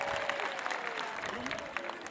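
A church congregation applauds with dense, moderately distant clapping, while voices and murmuring run faintly underneath.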